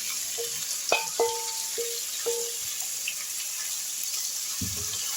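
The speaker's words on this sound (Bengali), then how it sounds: "আর এর ওপরেই আমি ম্যারিনেট করা মাংসটা দিয়ে দিচ্ছি" Marinated mutton goes into hot spice masala frying in a pan, producing a steady broad sizzling hiss with a few light utensil clinks and a soft thud near the end, with no voices.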